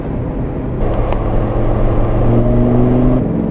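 A Lamborghini Gallardo with E-gear transmission decelerates, its engine note holding a steady tonal drone that shifts slightly in pitch, loud and close, with no talk.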